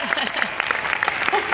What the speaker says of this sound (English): Yeah, you can clap for